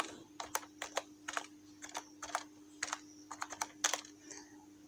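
Keystrokes on a computer keyboard typing a short word, about a dozen crisp clicks in quick irregular bursts, close and moderately quiet over a steady low electrical hum, with no voices.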